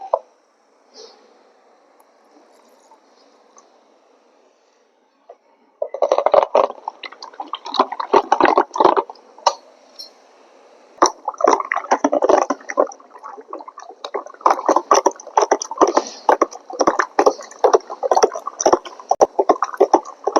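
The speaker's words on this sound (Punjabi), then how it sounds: "ਤਿੰਨ ਚਾਰ ਮਿੰਟ ਹੋ ਗਏ ਰੜਕੀ ਜਾਂਦਿਆਂ ਨੂੰ ਤੇ ਹੁਣ ਆਪਾਂ ਥੋੜਾ ਜਿਹਾ ਵਿੱਚ ਪਹਿਲਾਂ ਪਾਣੀ ਪਾਵਾਂਗੇ" Curd is churned by hand with water, village style, for Punjabi sweet lassi. After a quiet opening, rapid irregular sloshing and wet plops start up close and continue in uneven bursts.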